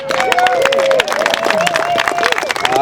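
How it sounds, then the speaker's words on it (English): A lively crowd cheering and clapping at a colloquium gathering, with dense rapid claps, some whoops and tonal shouts in a loud, roomy burst of applause. "Can we give them a round of applause?"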